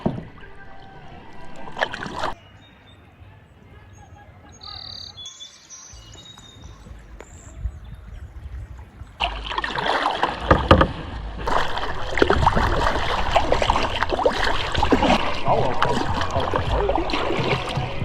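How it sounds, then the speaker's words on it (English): A canoe on the Kickapoo River, with quiet river ambience and faint birdsong that gives way to loud, sustained splashing and churning water from about halfway through. "That canoe just flipped."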